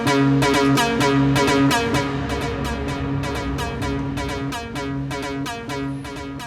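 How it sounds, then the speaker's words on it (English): A modular synth Plates module, triggered by an SQ-1 sequencer, plays a fast, steady run of bright, metallic, resonant hits, with repeated pitched tones ringing under the rhythmic pulses, close and continuous. "what you're hearing there is plates being triggered by the SQ-1"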